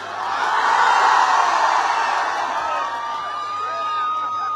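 University auditorium crowd at a movie promotion event clapping and cheering loudly, swelling at first and then easing into a softer sustained wash while a musical tone rings over the tail.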